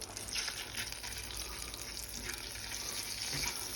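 Butter and sugar sizzle steadily in a pan while being caramelized and stirred with a spatula, a continuous close frying hiss with faint scraping and no talk.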